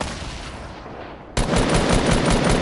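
Heavy machine-gun fire from an MG42 in a video game: quieter bursts at first, then a sudden loud, dense, continuous stream of rapid shots with no talk.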